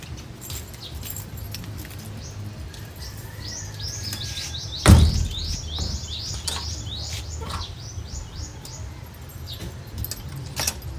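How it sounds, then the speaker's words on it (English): A series of rapid chirping bird calls over a quiet background, with a sudden loud thump partway through and scattered small rustles. "Those are very noisy birds"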